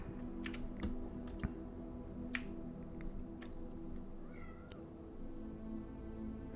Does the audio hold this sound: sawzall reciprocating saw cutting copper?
no